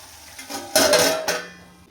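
Dry-cooked cabbage stirred in a pan: a few scraping, clattering strokes of a utensil against the pan, loudest in the middle and close by, with no talking.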